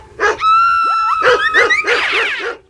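A big dog barks loudly in a quick series of harsh barks mixed with higher whining yelps, close and alone with no talking.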